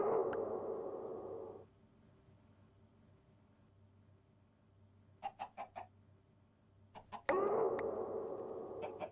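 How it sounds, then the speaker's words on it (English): A Minecraft chicken in an ATM 10 Skyblock world lets out a short burst of clucks, a quick cluster of brief sharp notes followed by a couple more, over a low steady ambient drone between louder noisy stretches. "Chicken."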